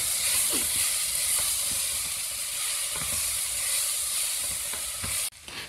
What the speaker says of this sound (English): Fry at least on 5 minutes this one nicely.